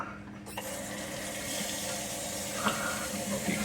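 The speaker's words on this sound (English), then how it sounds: "I'm just going to rinse them off, rinse off all the top salt off of it." Cured chicken livers for fish bait rinsed under a running tap, a steady close hiss of flowing water with small splashes as the pieces are moved under the stream.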